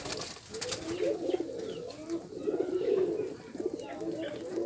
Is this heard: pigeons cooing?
yes